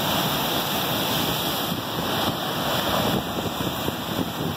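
Ocean waves crash on rocks below a viewpoint, surf spray rising, a steady loud roar of churning water with wind noise across the whole stretch and no talk.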